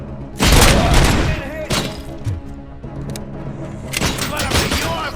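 Gunfire booms in the video game Robocop: Rogue City, loud heavy shots and thuds in clustered bursts with short gaps between, close and punchy.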